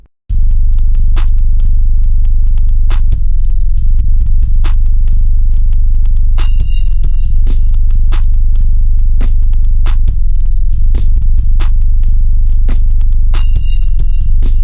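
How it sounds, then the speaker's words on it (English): A dirty, grungy programmed drum pattern in an alternative trap beat, with organic rock-style kicks. Dense, rapid percussive hits repeat in a tight loop over a heavy low-end bed and play loud and continuous, with no talk. "a super like dirty sounding drum pattern"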